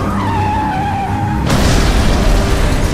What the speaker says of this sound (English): The collision caused the Batmobile to crash into a nearby gas station.